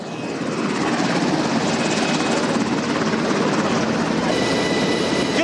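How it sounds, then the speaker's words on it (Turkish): Helicopter overhead carrying a gendarmerie commander during a military operation in Turkey, its rotor beating in a loud, steady, close drone throughout. "helikopterle havadan talimat veriyor, denetlemelerde bulunuyor"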